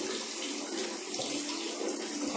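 Water runs steadily into a bathroom toilet bowl during tile cleaning, a continuous hissing rush of flow with no talking.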